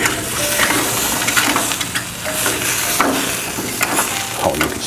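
Beef ribs sizzle on a Blackstone flat top fitted with a GrillGrate SearNSizzle, a steady close hiss with scattered scraping clicks as the meat is flipped. No one speaks.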